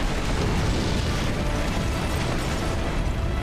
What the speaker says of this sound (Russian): Взорвем нахрен этот мост.